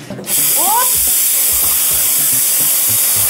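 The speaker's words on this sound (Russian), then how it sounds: "всегда думала, что отсюда идет очень горячий пар, что вообще можно обжечься" A loud, steady steam hiss bursts from a two-group espresso coffee machine and continues without a break, with faint voices low beneath it.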